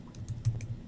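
Quick keystrokes on a computer keyboard tap out in a short, close burst of about five clicks, alone in a quiet room.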